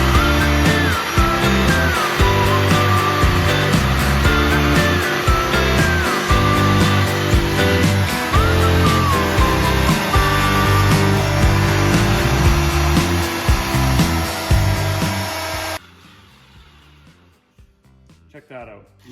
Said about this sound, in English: You can buy a pretty cheap buffer and make this work.